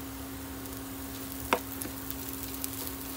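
Chiles dropped into rice frying in a pan give a steady sizzle, with one sharp crackling burst as they hit the oil and a few lighter pops after.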